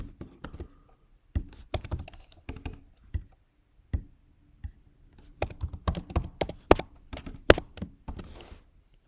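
Keys clatter on a computer keyboard while working in Mathematica, bursts of quick clicks separated by short pauses, with a denser run of typing toward the end; close and clear with no voices.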